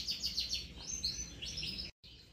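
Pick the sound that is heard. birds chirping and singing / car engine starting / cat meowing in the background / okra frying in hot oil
birds chirping and singing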